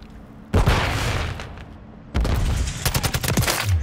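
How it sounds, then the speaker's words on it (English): Gunfire rattles in Modern Warfare 3, with bursts of automatic fire starting abruptly, dropping to a quieter rumble, then returning as loud rapid shots and booming impacts close up; no talking. "Who's shooting?"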